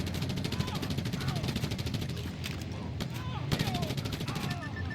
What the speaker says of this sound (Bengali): তুমি কি এতক্ষণ ধরে ফায়ার করতেছিলে আমারে ভাইয়া